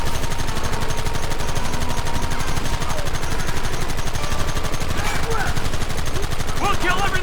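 Rapid, dense gunfire rattles through a Red Dead Redemption battle, with continuous loud volleys and machine-gun bursts sustained throughout, and shouting voices breaking through near the end.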